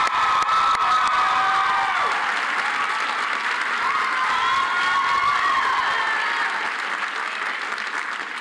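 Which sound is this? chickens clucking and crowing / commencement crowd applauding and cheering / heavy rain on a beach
commencement crowd applauding and cheering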